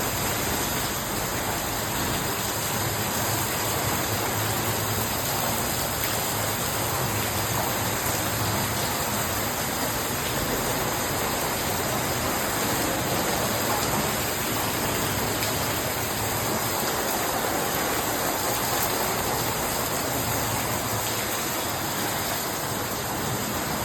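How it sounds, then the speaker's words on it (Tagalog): Dense, steady downpour of heavy rain, a loud unbroken hiss that fills the whole stretch with no pauses or voices. "Sobrang lakas ng ulan."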